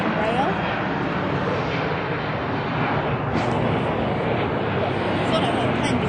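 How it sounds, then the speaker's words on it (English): Alaska Embraer jet taking off at Los Angeles airport, a loud continuous broadband engine roar that stays steady throughout, with faint surrounding activity. "We've got another takeoff. That is also an Alaska Embraer."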